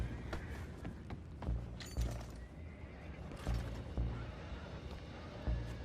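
Horses neigh and whinny in Red Dead Redemption 2, with hooves clip-clopping and thudding through a busy, dense game scene, several loud whinnies rising over steady rumbling movement.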